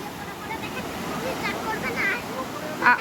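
Waves at Ganga Sagar wash in with a steady, rushing surge, loud and close, while people bathe nearby, with a brief louder splash near the end.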